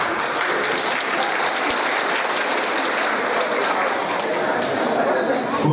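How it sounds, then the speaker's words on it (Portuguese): Dense, sustained applause from an audience at a Grandparents' Day celebration, many hands clapping steadily throughout with some crowd chatter underneath. "Un aplauso."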